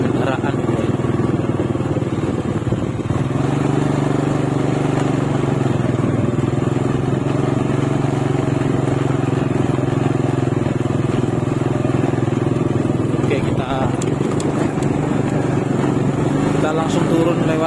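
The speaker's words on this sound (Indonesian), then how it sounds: "di atas itu kayak ada motor itu" A motorcycle engine rumbles nearby without pause beside an eroding cliff along the Kalilanang river, a loud steady drone that holds throughout, with voices talking over it.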